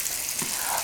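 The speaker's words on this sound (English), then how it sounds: "Let's drop in the Italian sausage. And let it begin to cook here" Italian sausage dropped into a pan of warm olive oil, giving a steady, dense sizzle with a soft crackle, close and fairly loud, with no talking.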